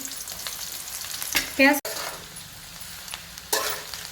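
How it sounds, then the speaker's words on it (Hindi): Onions fry in a pan with a constant loud hiss and crackle. A voice talks briefly partway through, and the sizzle swells again near the end. "अब मैं प्याज को तल लेती हूँ।"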